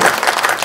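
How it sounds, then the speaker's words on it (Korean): A short, loud burst of audience clapping rings out at an inauguration ceremony for a regional residents' autonomy association president at the Nonsan Cultural Center, a dense, even patter lasting under a second. "한 박수 부탁드립니다"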